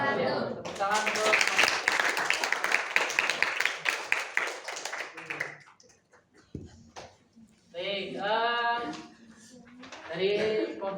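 Students in a history classroom clap together for about five seconds in a brisk, lively burst, then a teacher speaks over an otherwise quiet room.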